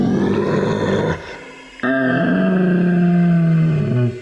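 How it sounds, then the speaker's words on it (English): A monstrous dragon's deafening roar echoing from inside a cave in a fantasy story, a long, loud, growling bellow with a brief break before a second sustained roar. "At once they heard a deafening roar."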